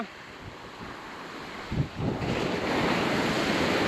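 Surf breaks on a beach at Barbuda in a steady, broad rush. The waves swell louder partway through with a crash, and gusty wind noise on the microphone runs throughout.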